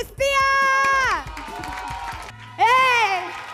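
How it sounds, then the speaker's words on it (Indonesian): An excited audience at a TV show cheers and shrieks in loud, high-pitched bursts, falling to a murmur before another rising cheer, with voices mixed in. "Penonton kayak girang banget."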